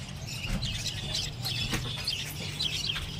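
Silver and golden finches chirp in quick, high tweets at the Garia bird market, over a steady low hum of market noise.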